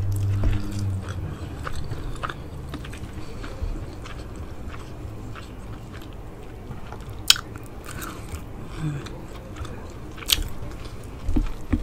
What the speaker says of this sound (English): I'm gonna get to this steak taco.